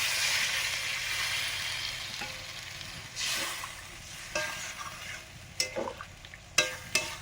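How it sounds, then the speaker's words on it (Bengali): Fried spice paste for egg curry sizzles steadily in a pan, then water is poured in, setting off bursts of louder hissing and spattering near the end; no one speaks. "মশলা কষানো হয়ে গেছে, এবার পরিমাণ মতো জল দিয়ে দিচ্ছি"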